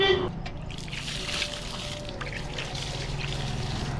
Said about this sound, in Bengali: ফল গাছের সাথে একেবারে ফুল গাছগুলোও জল দিয়ে দিই।